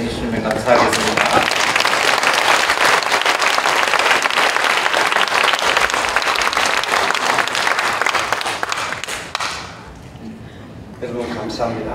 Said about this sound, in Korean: 나오실 때에 박수로 환영해 주시면 감사하겠습니다